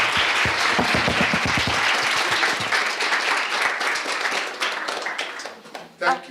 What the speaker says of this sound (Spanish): Respire y aplauden mientras tanto.